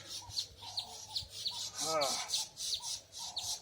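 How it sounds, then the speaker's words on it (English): Outdoor birds give repeated high chirps and short calls in a steady rhythm, with one louder squawking call in the middle, fairly close and clear, with no talking. "Oh, I apologize for these birds. Maybe I can get them to quiet down."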